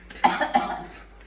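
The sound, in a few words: person coughing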